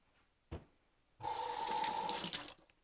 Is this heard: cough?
no